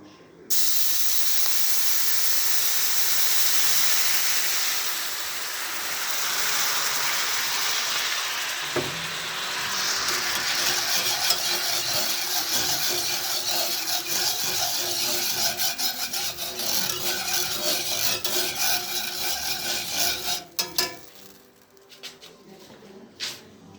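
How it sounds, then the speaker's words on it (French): A grilled pork chop is deglazed in a hot pan: a loud burst of hissing steam and sizzle opens, then settles into a long stretch of frying crackle with repeated scraping and rubbing strokes that stop abruptly near the end. "On va passer au déglaçage de ma grillade."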